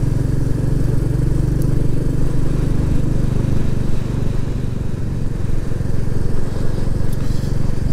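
A line of nine motorcycles, among them a Royal Enfield Classic 350, rides together along a sweeping rural bend near Gordale, giving a steady, continuous low engine drone with wind rush throughout and no clear pass-by peaks.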